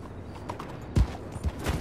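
Horse hooves clip-clop on the ground in the video game Red Dead Redemption 2, several distinct thudding steps in an uneven walking rhythm, close and fairly loud over a quiet background.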